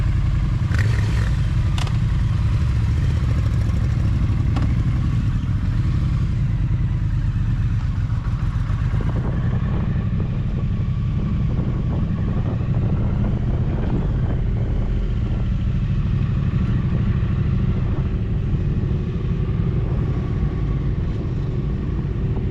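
Motorcycle riding on US 191, the Devils Highway in Arizona, on a sunny day: a steady, loud engine drone blended with heavy wind rush across the microphone, continuous throughout.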